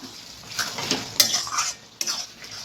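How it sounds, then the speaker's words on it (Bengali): Fried prawns being added to a pan of Malabar spinach and sautéed, with intermittent metal spatula scrapes and clanks against the pan over a low sizzle, a sharp clink midway. "এবার আমি যে চিংড়ি মাছগুলো ভেজে রেখেছিলাম ওই চিংড়ি মাছগুলো কিন্তু আমি এর মধ্যে এবার দিয়ে দেব"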